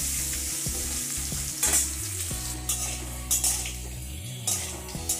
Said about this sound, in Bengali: এবারে লাল করে ভেজে নেব